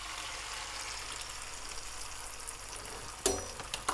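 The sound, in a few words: omelette egg mixture sizzling in hot pan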